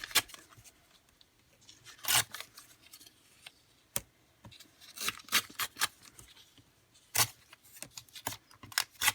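Scissors snip through lightweight paper scraps for a collage planner, giving a quiet scatter of crisp cuts, some in quick pairs, with faint paper rustling between them and no talking.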